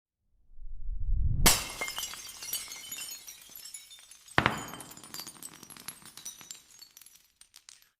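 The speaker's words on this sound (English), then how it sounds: "Wait a few seconds while Google Flow creates your bottle shattering video" AI-generated ASMR glass bottle shattering: a sharp, loud crash bursts out after a low swelling rumble, then a second impact follows, and glass shards tinkle and clink as they settle.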